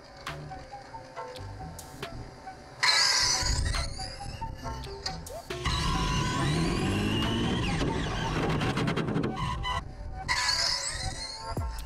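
A no-prep front-engine dragster makes a pass, its engine rising from idle into a loud, sustained high-pitched whine that holds steady, then drops away before surging again near the end.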